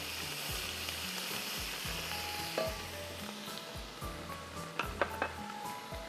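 Ginger garlic paste frying in hot oil in a pan with a steady sizzle, and some stirring scrapes and light clinks of a utensil against the pot near the end.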